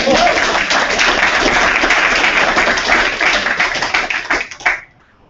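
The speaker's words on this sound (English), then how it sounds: "Come on, Jason, give a round of applause." A conference audience claps steadily in a dense, loud burst of applause that holds for several seconds before thinning and stopping abruptly.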